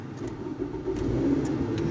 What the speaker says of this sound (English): And now the car is on, you're ready.